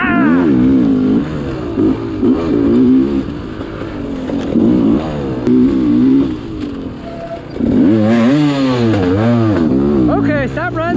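An enduro dirt bike on a wooded trail revs hard and close, with repeated rising and falling throttle bursts, a brief lull, then a sharp surge of high revs, loud and continuous with no talking.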